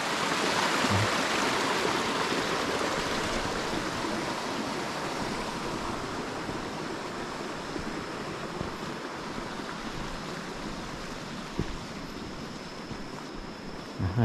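A village stream flows steadily in a rural local community, a continuous broad rushing wash of water that holds at an even, fairly close level throughout, with no voices.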